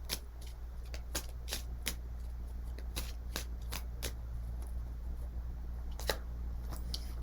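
A deck of tarot cards is shuffled close by, giving repeated crisp riffling bursts and flicks in an uneven rhythm over a low steady hum.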